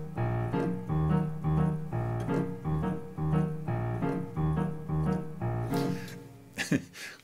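A jazz tune with a repeating groove in five-four time plays steadily, fading into a few scattered knocks at the end.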